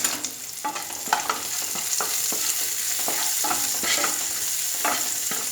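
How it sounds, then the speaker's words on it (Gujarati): Cumin seeds splutter in hot ghee with asafoetida and dried onion for a dhaba-style dal tadka, giving a continuous close sizzle broken by sharp crackling pops and the occasional scrape of a spoon. "અને જીરુંને એકદમ સરસ ચટકવા દઈશું।"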